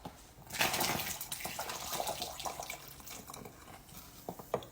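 Hot water splashes and gurgles as it is poured into a bottle holding rice and baking soda, a close, uneven trickling pour.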